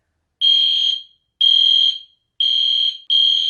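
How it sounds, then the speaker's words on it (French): A fire alarm set off by steam from a too-hot shower sounds in four loud, shrill, evenly spaced beeps, each about half a second long, with no voices. "j'ai pris ma douche trop chaud et ça a déclenché l'alarme incendie"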